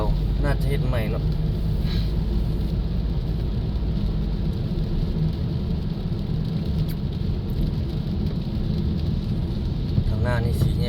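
Evening rain in Vientiane, a steady dense roar of rainfall with a low rumbling undertone throughout, plus faint passing street sounds.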